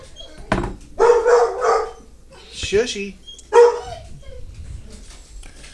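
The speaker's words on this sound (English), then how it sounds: "So there's the dogs barking because my wife just came home." Indoor dogs barking excitedly when someone comes home, several loud bark bursts with a door sound and a person speaking over them.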